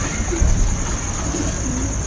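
Racing pigeons being readied for a competition coo softly and steadily in a loft, a low continuous murmur with faint background hiss and no voices over it.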